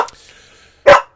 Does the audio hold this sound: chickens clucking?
no